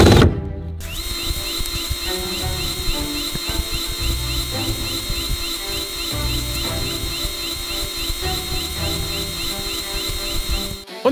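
A power drill whirs steadily and loudly for a long stretch while driving screws into large chipboard panels, the motor tone holding with slight load changes and a sharp stop at the end.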